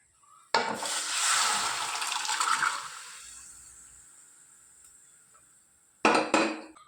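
Boiled pea cooking water poured into a pan while making pea sundal, a loud broad pour-and-sizzle rush lasting a couple of seconds and tapering off, then a short second burst near the end; no talking.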